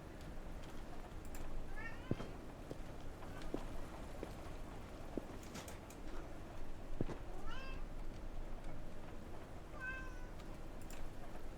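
A cat meowing repeatedly in the game Cash Cleaner Simulator, several short rising meows spaced across a steady background hum, with light clicks in between.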